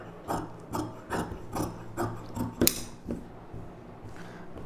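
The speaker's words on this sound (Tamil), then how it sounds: "இப்போ வந்து நம்ம இந்த ஸ்லீவ் கட் பண்ணிக்கலாம்." Scissors snip through blouse sleeve fabric in a steady run of about nine close, crisp cuts with rasping edges, with no voices.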